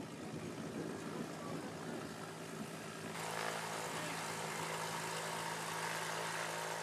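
The engine of a small six-seat propeller plane drones steadily at moderate distance, and its tone thickens and brightens partway through as the power rises.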